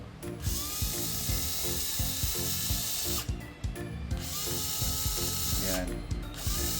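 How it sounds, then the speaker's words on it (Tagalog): An electric screwdriver drives into a Tamiya Mini4wd plastic wheel, giving a loud, continuous whirring grind with rapid ratcheting clicks, broken by two brief pauses where the motor stops and restarts, close up. "electric na screwdriver"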